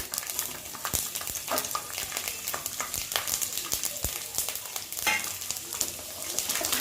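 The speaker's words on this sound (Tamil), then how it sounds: "இது கூட வந்து நான் 1 கை அளவுக்கு பூண்டு சேர்த்திக்கிறேன்." Garlic and dried red chillies fry in hot oil, crackling and spattering loudly and continuously, with frequent sharp pops and stirring scrapes throughout.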